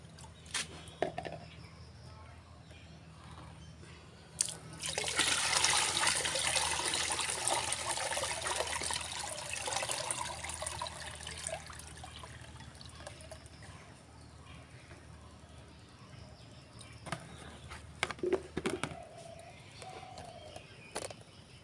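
Homemade vegetable-peel liquid fertilizer poured and strained into a bucket, a steady splashing gush for several seconds, then lighter trickles and drips, with birds chirping faintly around it outdoors.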